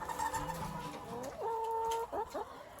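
Chickens cluck and call in a steady run of short, warbling notes, close by and fairly loud, with no talking, on a farm in winter.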